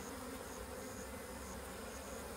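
A swarm of bees buzzes during a hive removal, a dense, continuous droning hum from many insects close by, faint but steady throughout.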